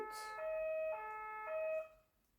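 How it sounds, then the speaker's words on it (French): An ambulance siren sounds close by in a home neighbourhood, its two-tone wail alternating steadily for about two seconds and then cutting off, loud and clear with no talking over it. "Désolée si vous entendez une sirène."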